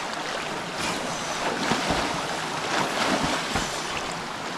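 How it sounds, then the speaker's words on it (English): Strong river water rushes along a riverside in a loud, continuous churning roar, with surging swells and some wind buffeting the microphone. "Water is very, very strong, guys."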